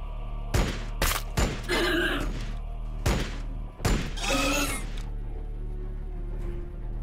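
Several sharp, loud gunshot bursts from Warhammer 40k Battlesector gameplay in a desert setting, clustered in the first four seconds with rattling decays, then a quieter hum to the end.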